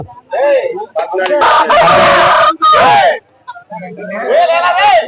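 A rooster crows loudly and close by, several times, amid people talking at a large Monday tribal market that draws villagers from forty villages.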